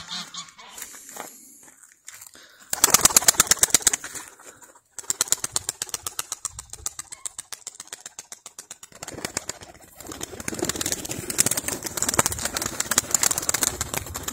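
Domestic pigeons outdoors in a small mountain village, with soft cooing and bursts of wing flapping and fluttering in several rhythmic spells, moderately close, with no talking.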